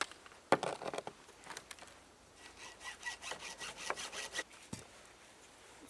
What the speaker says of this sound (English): And just do it with a handsaw.